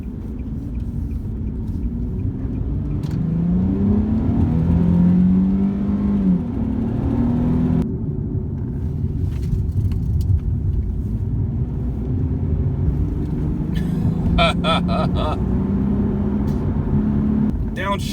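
A 2010 Nissan 370Z Touring engine accelerates and downshifts, a loud steady drone with rising revs that runs through the whole stretch under continuous talking.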